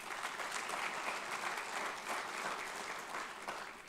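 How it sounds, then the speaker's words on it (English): An audience at an alumni awards celebration gives a sustained round of applause, dense steady clapping from many hands filling the room for several seconds with no voices over it. "Let's give them a round of applause."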